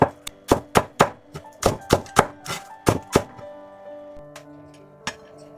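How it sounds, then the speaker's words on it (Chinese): A knife chops scallions into short segments on a cutting board, a quick series of about a dozen crisp, close thunks in a steady rhythm, slowing to a few scattered taps at the end. "準備幾根蔥，把蔥切成小段。"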